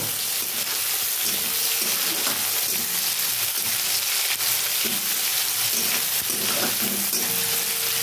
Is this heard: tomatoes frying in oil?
yes